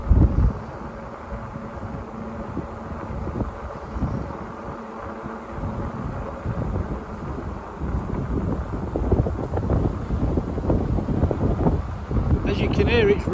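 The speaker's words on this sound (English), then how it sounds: "As you can hear, it's really windy here. It's blowing in my face." Strong wind buffets the microphone of a rider on an electric fatbike climbing a hill beside a busy road, giving a constant low rumbling roar with gusty swells that grow louder toward the end.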